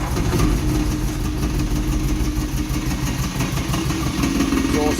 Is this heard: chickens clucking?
no